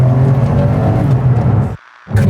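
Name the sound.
car engine revving while accelerating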